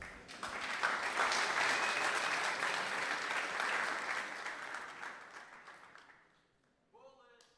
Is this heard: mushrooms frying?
no